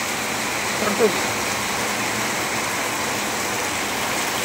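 Heavy rain falls in a steady, dense wash of noise, fairly loud and unbroken, with a faint brief voice-like sound near the start.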